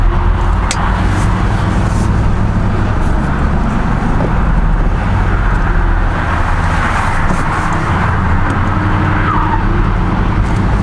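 A truck drives after repair of wheels that had been falling off, its road noise a loud, steady rumble and whoosh of tires and engine running continuously throughout.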